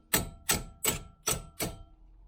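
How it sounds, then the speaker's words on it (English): Five sharp metallic hammer taps on a car's brake caliper sliding pins ring out at an even, unhurried pace, close by, each with a brief clanging decay. "So a few taps with a hammer just to shock them,"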